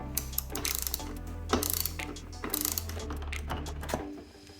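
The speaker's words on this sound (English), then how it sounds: "I got a big star drive here, so we're going to get that bolt taken out." A ratchet turning a T50 star bit to remove a bolt from a Ford truck armrest, with dense rapid clicking in several bursts up close, under a low steady hum.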